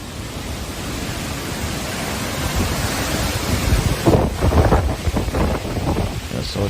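Hurricane Fiona's gusts roar through a street in Halifax, Nova Scotia, as steady heavy wind buffeting the microphone, swelling stronger toward the end with rumbling bursts.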